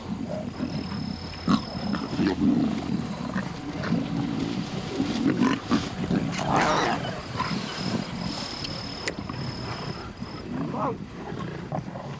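Lions growl and roar in the wild, a continuous rumbling, grunting vocal texture at moderate loudness with a couple of sharper calls rising out of the background.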